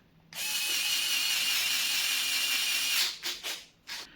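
Screwdriver bit driving screws while a Cougar Speeder One gaming chair is assembled: a steady grinding, ratcheting whir for about two and a half seconds, then a few short bursts, close and alone with no talk.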